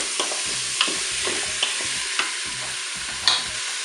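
Hot oil sizzling in a preheated Cookeo multicooker pot, a steady bright crackling hiss heard close and alone, with a few faint clicks rising above it.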